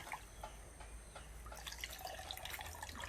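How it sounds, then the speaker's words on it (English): Liquid poured through a strainer while making milk, a steady trickling and splashing stream that grows busier and more spattery partway through, with no talking. "We are pouring it again through something in order to make the milk"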